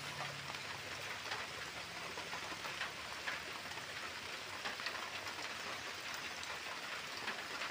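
Steady heavy rain pours down outdoors on a rainy morning near a chicken area, a dense continuous hiss with scattered drops, loud and unbroken throughout with no talking.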